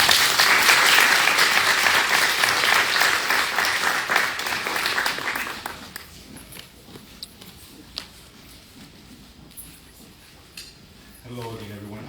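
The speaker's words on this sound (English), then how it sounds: "let's give another round of applause for our panelists" Audience applause for a panel at a domestic violence awareness event, loud and dense at first, then thinning to scattered claps after about six seconds before a voice begins to speak.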